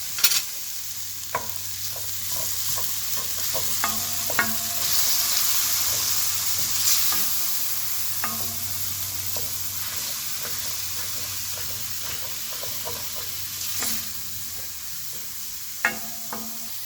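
Mushrooms, chickpeas and black beans sizzle in a hot pan while being stirred, a continuous frying hiss broken by scraping, clicking utensil strokes, close up with no talking.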